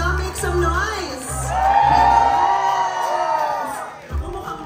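Crowd at a live vaccine education event in Manila cheering, whooping and shouting, a sustained mass of voices swelling and dipping across the clip, with a low rumble of amplified sound beneath.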